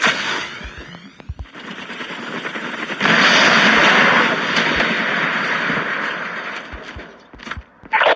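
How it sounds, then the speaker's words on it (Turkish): A helicopter flies overhead in the Call of Duty Mobile video game, a loud, steady roar mixed with rapid bursts of gunfire and sharp shots, with no talking. "Helikopterli bir arkadaşımız var."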